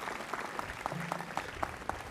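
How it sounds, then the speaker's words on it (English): Audience applause at a school head-of-school installation ceremony, a soft, steady patter of clapping heard from a distance, with some separate claps standing out across a couple of seconds. "Can we all give a round of applause to Mr. Bronk for joining our community?"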